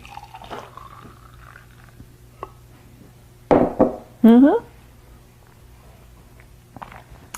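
Freshly made juice poured into a small glass from a kitchen juicer, a short gurgling pour heard twice, the second burst rising in pitch as the glass fills, in an otherwise quiet room.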